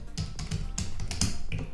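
Computer keyboard keys being typed on, a quick irregular run of crisp clicks and taps that is close and fairly clear, with no voices, while entering a username for a UniFi Protect setup in Home Assistant.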